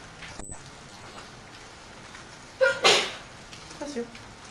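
A single sharp sneeze bursts out close by, with a second smaller burst right after it, against a quiet room background.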